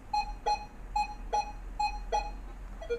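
Nokta Legend metal detector sounding one of its selectable target tones: six short, clear electronic beeps at an even pace, the last one lower, fairly quiet over a low background hum.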